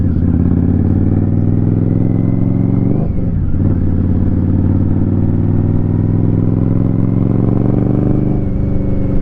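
An Indian Scout Rogue motorcycle fitted with an RCX exhaust runs loud and close, a deep, throaty steady rumble with a short dip and recovery partway through, no voices.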